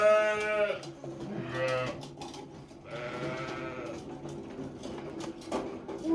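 Sheep bleat repeatedly in a farm barn during lambing season, several close, loud calls overlapping one another with no talking.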